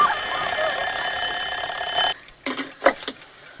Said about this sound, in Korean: 알람 시계의 소리에 겨우 잠에서 깨고